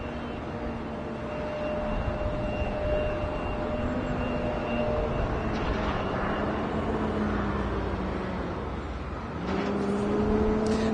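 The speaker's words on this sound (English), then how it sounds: "That is United Express flight 6072 heading to New York LaGuardia in an E175 LR." A United Express Embraer E175 LR airliner at Washington Dulles airport gives a steady, far-off jet engine roar with a droning whine that shifts slightly, swelling louder near the end.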